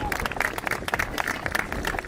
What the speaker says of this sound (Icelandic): Gefið henni gott klapp